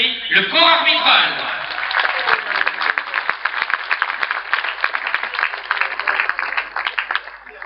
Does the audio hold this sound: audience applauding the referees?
yes